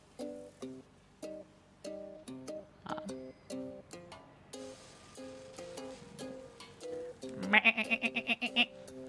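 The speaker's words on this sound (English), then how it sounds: "Now listening to some goat music." Goat bleating music played from a tape in the video game Satisfactory: a plodding melodic pattern of synth-like notes, with a cluster of rapid, loud bleat-like bursts near the end.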